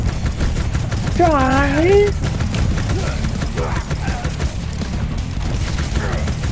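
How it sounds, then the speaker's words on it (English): Sustained gunfire and explosions from shooting barrels during a wave-defense battle in the video game Warhammer 40,000: Shootas, Blood & Teef, forming a steady dense roar with a shouted voice briefly on top. "I'm just gonna keep shooting these barrels and hoping to kill a bunch of people."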